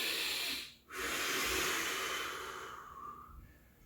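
A deep, forceful exhale during a plank-style core exercise, a long breathy hiss that fades out after a brief pause, close to the microphone with no talking.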